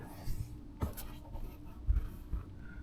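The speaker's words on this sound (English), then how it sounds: "I'm zip tying it as I go" Soft scratchy zip-tie ratcheting under a jacked-up 2000 GMC Savana van near the wheel well: a few short, faint rasps and light taps, quiet and up close, with no talk.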